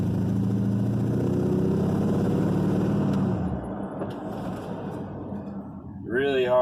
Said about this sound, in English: take off, get about 30 miles an hour, and real hard brake.